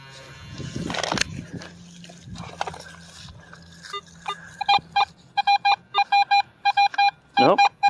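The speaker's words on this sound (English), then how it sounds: "Nope, getting another penny sound." A metal detector hunting coins in wet, sloppy ground gives a run of short, repeated beeping tones over rustling digging noise and scuffing, the tones bunched in the second half.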